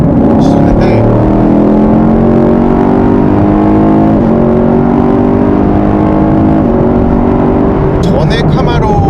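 A Chevrolet Camaro SS with a 6.2-liter V8 accelerates hard, its loud engine note rising steadily through gears with brief dips at shifts, heard from inside the car while someone talks over it.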